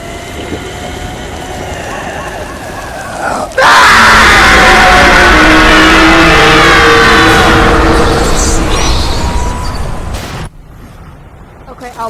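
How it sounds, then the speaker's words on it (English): A Wilhelm scream in the video game Castlevania: Lords of Shadow 2: after a few seconds of background game sound, a loud, sustained shriek bursts in and carries for about seven seconds over a rumbling backdrop, then cuts off abruptly. "I love the Wilhelm scream"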